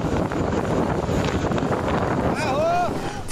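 Strong wind sweeps across a sandy mountain bike race course at Arapuá, a loud, steady buffeting rush with a brief whistling tone near the end.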